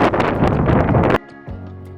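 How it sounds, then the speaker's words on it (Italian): Strong wind at a remote high-altitude Andean lagoon in Catamarca, Argentina, buffeting the microphone in a loud, roaring gust that cuts off abruptly, leaving a quieter low rumble. "C'è un vento pazzesco"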